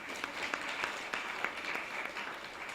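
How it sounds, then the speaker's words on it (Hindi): Audience clapping at a spiritual discourse on the Shrimad Bhagavatam, a steady, moderately faint spatter of many hands running throughout with no voices over it. "तालियां करना है रवि,"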